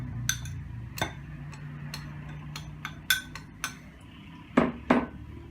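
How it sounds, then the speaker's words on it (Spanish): A whisk beats cake batter with milk for a quick microwave cake in a bowl, producing sharp, irregular metallic clinks and taps against the bowl, spaced apart and close by. "Se comienza a batir nuevamente"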